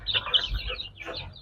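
Young Kabir chickens, about a month old, give a brief burst of soft, close clucking and chirping.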